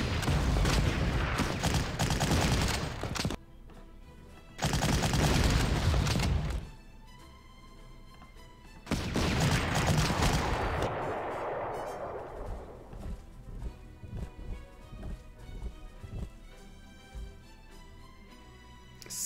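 Heavy artillery salvos in the Panzer Corps war strategy video game roar in three loud, dense bursts, the last one decaying into a rumbling tail under a quieter musical background.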